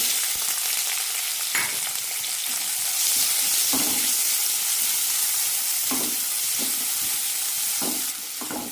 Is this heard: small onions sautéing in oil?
yes